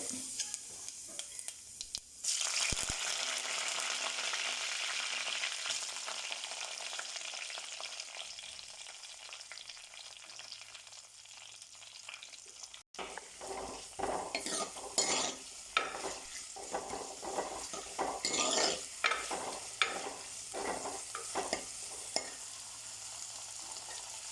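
Chopped shallots, curry leaves, green chillies, coconut pieces and a piece of cinnamon fry in oil, a close hissing sizzle that flares loudly with fresh bursts of crackle midway, with light utensil clinks and stirring, no talk.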